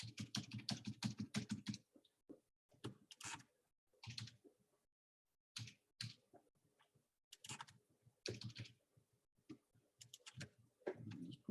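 Bursts of rapid keystrokes on a computer keyboard, close and crisp, broken by short pauses and one longer silence, while someone fills in an email and other details on an online enrollment form.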